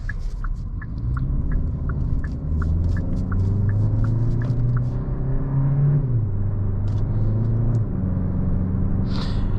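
A 2021 Hyundai Sonata Limited with an 8-speed transmission accelerates hard, its engine note rising steadily through the gears with a clear pitch drop at each quick shift; a loud, continuous drone heard from inside the cabin.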